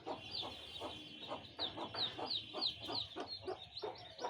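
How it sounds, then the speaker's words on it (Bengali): Chickens on a village farm cluck and chatter in quick, repeated bursts, with sharper calls rising over a busy, fairly close flock and no talking. "আমার অন্যান্য মুরগিগুলো এখানে থাকে সারাদিন"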